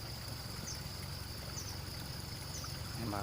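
Water flowing through a stream channel at a fishing spot, a faint, steady trickle and rush with no voices.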